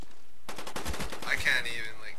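Repeated blasts from a shotgun in a multiplayer shooter game ring out in quick succession. Several loud, booming discharges stack on top of each other over about a second and a half, and a short electronic tone follows.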